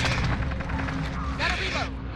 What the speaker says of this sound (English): Enemies over there! I'm taking fire!